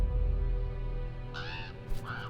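Two harsh crow caws ring out over a rumbling orchestral score in a Genshin Impact trailer, the first longer and the second shorter, both close and clear above the low music bed.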